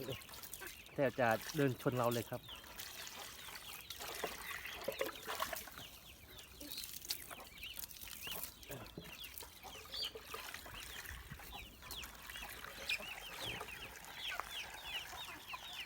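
Domestic ducks quack and chatter nearby, with a loud burst of quacking at the start followed by softer scattered calls and splashing, while someone talks over them.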